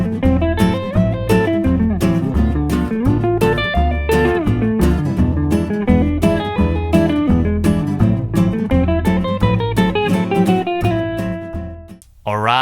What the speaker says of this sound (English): you can extend a triad by playing it across 6 strings, and then it's called an arpeggio